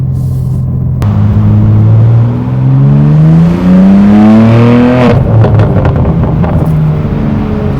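A loud BMW G87 M2 engine with an AWE SwitchPath exhaust pulls hard under acceleration in Sport Plus mode, its pitch climbing steadily, then a gear change with a crackling exhaust burst before it drones on.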